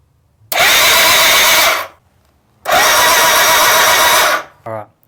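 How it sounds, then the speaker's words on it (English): A 1983 BMW K100 motorcycle engine is cranked by its starter motor wired straight to the battery, in two loud, close, sustained whirring bursts of about a second and a half each, with a short faint sound at the end. "bridging the starter motor to the battery is, engaging the engine"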